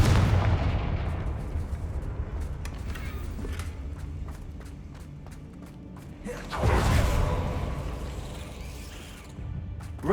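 A fire-blast spell explodes in the Hogwarts Legacy video game, a loud booming burst near the middle that follows a stretch of rumbling, crackling battle noise with rapid impacts.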